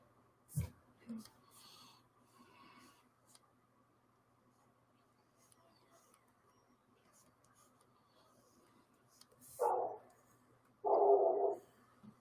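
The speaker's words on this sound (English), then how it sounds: "There's a dog barking outside." A dog barks outdoors, heard faintly from a distance as a few scattered short bursts, with a louder double bark near the end, over quiet room tone.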